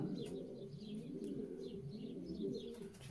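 Racing pigeons coo steadily inside a breeding loft, a dense overlapping chorus of low, rolling calls with a few brief chirps and wing flutters, continuous and fairly close throughout.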